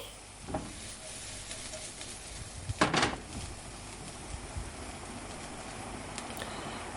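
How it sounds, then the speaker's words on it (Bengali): Vegetables with salt frying in a pan: a faint, steady sizzle under the room hush, broken by a few scraping stirs, one sharper clatter near the middle. "দিয়ে সবজিগুলো আরও একবার ভালোভাবে ভেজে নিচ্ছি"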